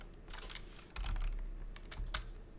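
Fingers tapping out a short burst of keystrokes on a computer keyboard, quick irregular clicks close up over a quiet background.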